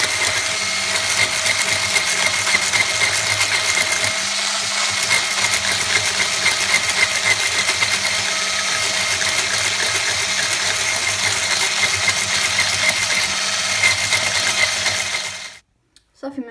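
An electric mixer whips very cold cream for a carrot cake, giving a steady, loud whirring and rattling drone that runs unbroken for about fifteen seconds before cutting off abruptly.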